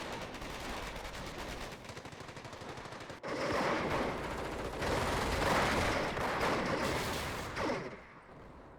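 Machine gun fire in the real-time strategy game Company of Heroes, with sustained rapid bursts of automatic gunfire layered over dense battle noise that swells louder midway, then trails off.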